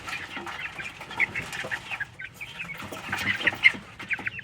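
Young hens raised at 7000 feet elevation cluck and chirp softly nearby in an irregular, busy chatter, with no talk over them.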